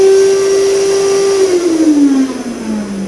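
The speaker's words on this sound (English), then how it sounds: "has anyone seen a vacuum cleaner with a remote control?" A small remote-controlled vacuum cleaner runs close by with a steady motorized whine that slowly drops in pitch toward the end, heard alone without talk.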